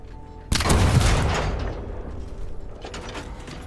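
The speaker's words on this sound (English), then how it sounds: "the door took a whole cannon shot then." A cannon shot in the video game Sand hits a door with one sudden heavy boom, then a long rumbling decay of debris and echo, loud and close.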